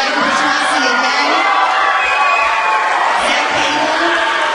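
Concert audience at a school band spring concert cheering and whooping loudly, a dense sustained crowd roar with shouts throughout, with no break in the noise.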